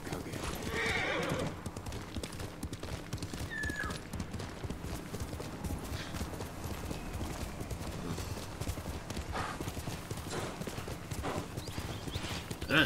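A horse gallops in the Ghost of Tsushima video game, its hooves clip-clopping in a steady rapid rhythm throughout, with a brief whinny near the start, and a short voice line over it.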